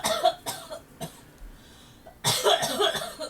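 A woman coughs in several short bursts, then breaks into a longer, harsher fit of coughing close to the microphone.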